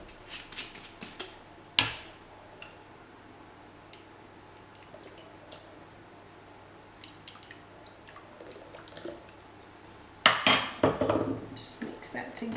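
Keto blondie batter mixed in a bowl, scattered soft taps and scrapes of a utensil with a sharp clink early on and a louder burst of rapid clattering stirring toward the end, close and otherwise quiet.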